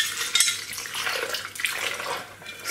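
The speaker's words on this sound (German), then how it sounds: "Zum Schluss wird das Ganze abgedeckt mit Wasser." Water is poured from a cup over a raw vegan cauliflower curry mixture with Himalayan salt, a close splashing and trickling pour that runs fairly steadily for a few seconds with no speech.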